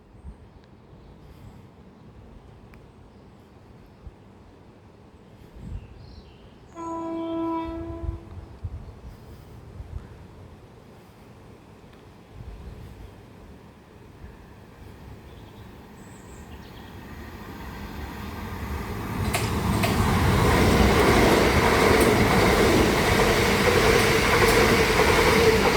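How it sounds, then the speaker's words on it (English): A pair of coupled Class 377 Electrostar electric trains approach East Malling station, with a brief horn tone early on, then a steadily rising rumble and rush of wheels as the units pass close by. "on the approach now is going to be our first Electrostar pass of the day"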